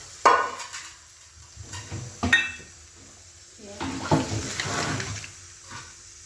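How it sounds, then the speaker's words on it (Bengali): Mustard seeds, fennel and cumin hit hot oil for a Bengali tempering, giving short bursts of close sizzling and spattering with a few clinks of a utensil against the pan; no one speaks. "ফোড়ন দিয়ে এবার একটু এই যে মশলা করেছি এখানে, সর্ষে, মৌরি আর জিরে, এটা একটু দিয়ে দেবো"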